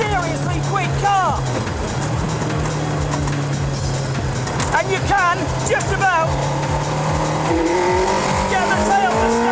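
A 460-kilogram race car with a 6-speed sequential gearbox is driven hard; its engine note climbs steadily and then drops at each quick upshift, staying loud and continuous throughout, with someone talking over it.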